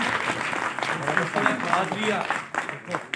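Audience applause at a book release ceremony in a hall, dense clapping that runs continuously and stays fairly loud, with a voice speaking over it.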